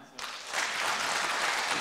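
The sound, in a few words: church congregation applauding retiring deaconess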